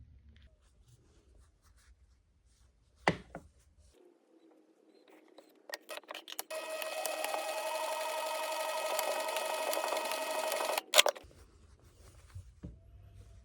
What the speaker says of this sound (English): So now we're going to go put these seams together and sew a line down here.